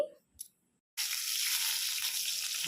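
Green chillies dropped into well-heated oil in a pot for a small fish curry, giving a sudden loud, bright sizzle that bursts in after a brief clink and quiet, then crackles steadily.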